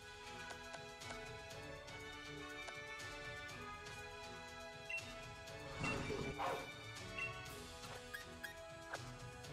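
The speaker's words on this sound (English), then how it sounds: "Its cry is actually a bark." A Pokémon's dog-like barking cry in Pokémon Shield, heard as short bursts around the middle of a busy game soundtrack with music and effects.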